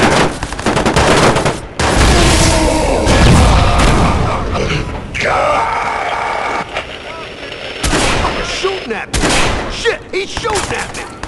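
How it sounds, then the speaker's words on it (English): Gunfire in the video game Watch Dogs, with loud bursts of shots and booming blasts filling most of the stretch, a few brief gaps between them, and voices shouting in the middle of the firing. "He's shooting at me!"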